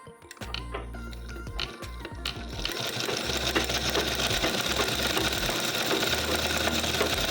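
A sewing machine stitches steadily, its motor whirring in a continuous close-up drone that starts with a few short bursts before running without a break.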